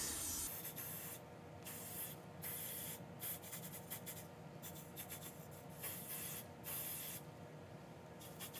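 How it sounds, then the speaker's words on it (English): Bursts of hissing aerosol adhesive spray on a wig closure, several sprays in a row with short pauses between, close to the microphone. "I'm just gonna spray it across."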